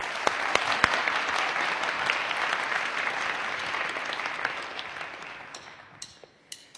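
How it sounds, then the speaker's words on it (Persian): A studio audience on a Persian TV comedy show claps steadily in a dense burst of applause that gradually fades out, with a few scattered claps at the end. "تشویقش کنین."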